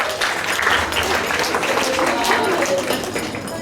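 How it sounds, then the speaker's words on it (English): A school assembly crowd claps steadily in dense, continuous applause, with voices mixed in underneath throughout. "Again, a huge round of applause."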